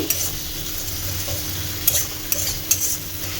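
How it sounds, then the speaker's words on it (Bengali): A spice paste of tomato, cumin powder and coriander powder fries in a pan, giving a steady low sizzle under scraping and stirring with a few sharp utensil clinks against the pan, with no talking. "এইসব মশলা টশলা দিয়ে একটু কষিয়ে নিই"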